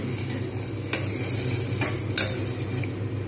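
A tempering of curry leaves, chilli and cumin in hot oil sizzles steadily in a pan for masoor lentil dal, with a few sharp metallic stirring clinks, close up and with no talk.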